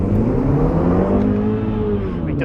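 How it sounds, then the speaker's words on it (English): A MINI Cooper S petrol hatchback launches from the start line on a race track, its engine rising steadily in pitch as it accelerates hard, loud and close throughout with no talk. "George is now on the start line in the Cooper S"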